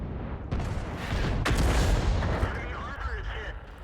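An artillery gun fires in the World of Tanks video game, a sharp loud blast around the middle followed by a rolling boom and lingering rumble, with a voice talking over parts of it.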